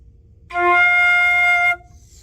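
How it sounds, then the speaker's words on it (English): A single sustained flute note, F, clear and steady, held for about a second against a quiet background. "So an F sounds like this."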